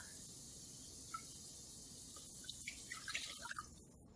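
Milk poured into a gluten-free mac and cheese sauce, quiet trickling and small liquid drips building toward the end, close and soft over a low hiss.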